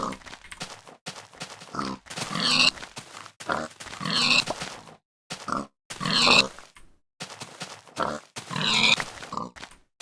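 Pigs grunt and snort in a video game, several loud close grunts in repeated bursts separated by short silences.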